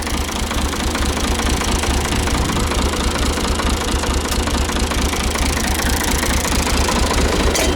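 The 50-year-old engine of a 1971-model machine, running loud and close with a steady, rapid knocking chug that holds without a break. Nobody speaks.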